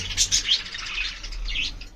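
Pigeons calling and chirping while they feed, a few short calls over a steady low background hum, fairly close.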